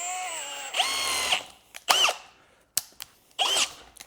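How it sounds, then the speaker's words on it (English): Drill with a tap drill bit and depth collar bores into an aluminum BMW M54 cylinder head block, sounding in several short whirring bursts that start and stop, with brief clicks and quiet gaps between them. "So now we just drill it."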